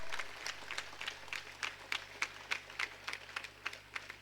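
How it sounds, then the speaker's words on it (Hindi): Rhythmic audience clapping at a yoga and meditation camp held in a jail, with scattered bursts of applause over steady hum, moderately quiet and without talk. "जोरदार तालियां बजाएंगे इनके लिए।"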